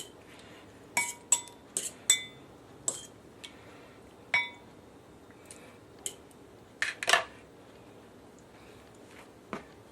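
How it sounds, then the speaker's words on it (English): A fork mixing green beans coated in egg wash in a bowl, with sharp scattered clinks of metal against the bowl at irregular intervals, close and fairly quiet, with no talk. "get my trusty old fork, just give them a good mix around"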